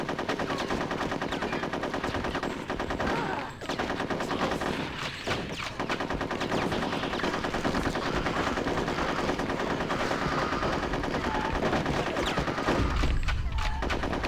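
Sustained machine gun fire in the video game Conker's Bad Fur Day on a war-themed level, a loud unbroken rattle of rapid shots with heavy thumps and booms mixed in, holding steady for the whole stretch.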